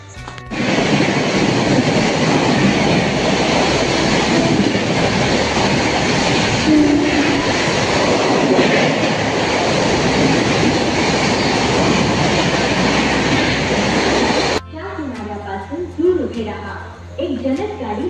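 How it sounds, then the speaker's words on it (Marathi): A fast train rushes through a station at Virar on the railway, a loud continuous roar of wheels and wagons clattering close by, cutting off abruptly into quieter platform ambience with voices. "एक जलद गाडी जाणार आहे"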